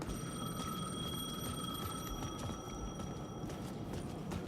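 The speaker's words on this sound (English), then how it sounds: "The payphone was ringing." A payphone rings in the Alan Wake video game, its steady electronic bell tones repeating throughout over a dense, noisy game ambience.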